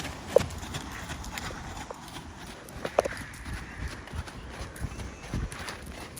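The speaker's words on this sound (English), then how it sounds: "He's a very pretty horse." Horse hooves clip-clop at an easy walking rhythm on soft ground, a few sharper strikes standing out, with faint background noise.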